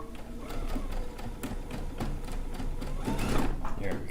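A sewing machine runs steadily while stitching a stone log cabin quilt block, a continuous close mechanical whir with rhythmic needle ticks, and someone speaks over it.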